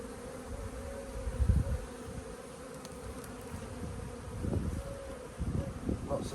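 Honeybees hum steadily in an open hive during an inspection, with drones present, the buzz rising in short louder bursts close by.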